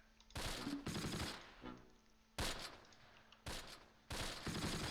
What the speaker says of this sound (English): they're shooting at the vehicle